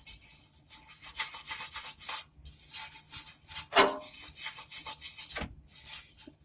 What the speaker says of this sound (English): Clean it up, so I'll try it with this brush.